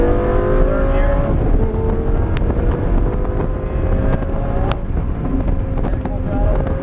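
A Lamborghini at full throttle on a track laid out at Grosse Ile Airport, its engine a loud, steady roar that climbs slightly in pitch throughout, with wind buffeting and a voice talking over it.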